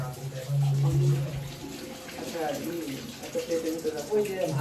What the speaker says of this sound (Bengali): এখানে ডিমগুলো পরিষ্কার করা হচ্ছে